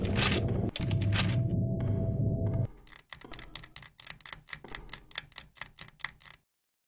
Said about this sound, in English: I can faintly hear clicking coming from the ceiling